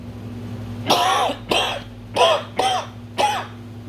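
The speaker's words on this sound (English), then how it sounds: "I got the cough now" Five harsh, throaty coughs in a slow, uneven series, close and loud over a low steady hum.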